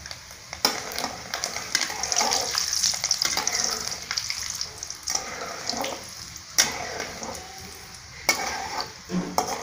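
Mustard seeds with chana dal and urad dal fry in hot oil, giving a continuous close sizzle full of crackling pops and occasional sharper bursts throughout.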